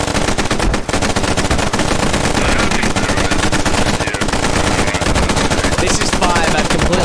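Machine gun fire rattles without pause in a Squad battle, mixed with mortar impacts, loud and close, with rapid repeating bursts and faint voices underneath.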